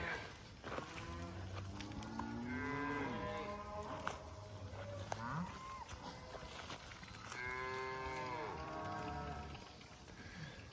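Cattle separated from their calves bawl loudly in a field, with several long, drawn-out moos rising and falling one after another over an open-air background, no talking.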